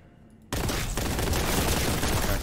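Sustained heavy bolter gunfire in Warhammer 40K: Boltgun bursts in abruptly and continues as a dense, loud, unbroken roar of rapid shots.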